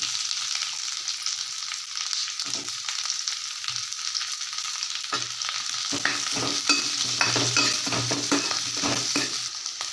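Chopped onions frying and stirred in a pan for paneer butter masala, giving a steady, close crackling sizzle with scraping stir sounds that grow busier over the second half.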